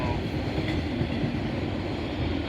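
An intermodal freight train rolls steadily past at close range near Oak Harbor, Ohio, its cars carrying containers, trailers and auto racks, with a continuous loud rumble and faint wheel clatter and no pauses.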